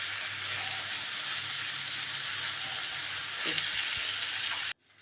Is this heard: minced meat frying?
yes